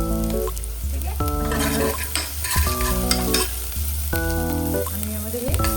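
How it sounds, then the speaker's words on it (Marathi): Ginger and garlic sauté in a little oil in a pan, giving a loud, constant sizzle with repeated scraping stirs and a harmonic squeak from the utensil on the pan, heard up close with no talking. "आणि आता आपण यामध्ये आलं लसूण टाकणार."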